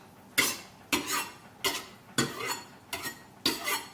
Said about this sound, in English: what you want to do is just gently strop like that